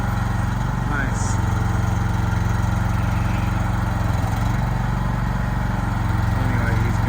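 The small gas engine of an AGT QH13R mini excavator runs at a steady idle, a continuous, fairly loud mid-pitched drone with a buzzing pulse and no change in speed.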